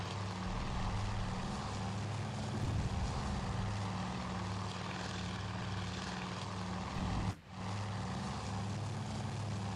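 Aichi Val dive bombers in Task Force Admiral, a steady droning propeller engine hum with a low pulsing throb, held continuously and fairly near, dipping briefly near the end.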